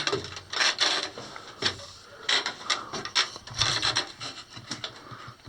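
An old wooden ladder in a mine creaks and scrapes as someone climbs it: a run of irregular rubbing, groaning strains, some sharp and close, others softer, without speech.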